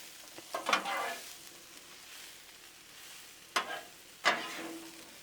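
Shrimp and sausage cook on a Blackstone griddle, a soft continuous sizzle punctuated by two pairs of spatula scrapes and pushes against the hot flat-top.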